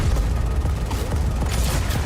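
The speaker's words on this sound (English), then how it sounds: "这他妈的电磁炮哎，好狠！" A railgun blast in the Star Citizen space game: a dense, heavy booming rumble that fills the whole moment, loud and continuous with rolling low thunder.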